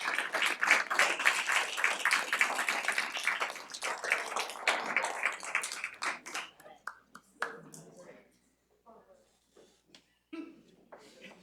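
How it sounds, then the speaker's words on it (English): An audience at a student pitch competition applauds with dense, steady clapping for about six seconds, then thins into scattered individual claps that die away. "Give them a round of applause."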